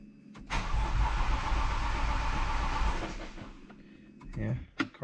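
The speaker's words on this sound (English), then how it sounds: "Yeah, car still tries to start." A 2008 BMW 335i E92 with the N54 engine cranks but fails to start. The starter turns over loudly for about three seconds and then stops, and a few clicks and muffled sounds follow.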